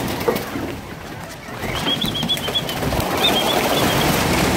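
A flock of bobwhite quail takes off outdoors, wings whirring and flapping in a loud, sustained rush, with a few thin chirps above the noise.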